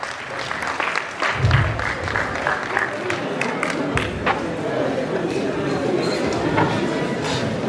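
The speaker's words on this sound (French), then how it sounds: "On peut quand même les applaudir" Wedding guests applaud as the bride and groom make their entrance at a reception in Rennes, a steady wash of clapping from a crowded room with voices mixed in throughout.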